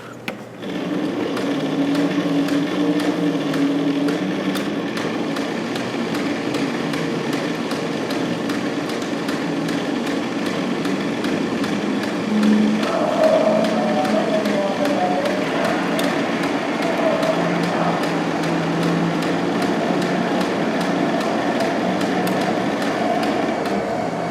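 Model trains run around a railroad museum layout, a steady mechanical hum and rattle with small whirring motors, continuous and moderately close, with faint voices murmuring underneath.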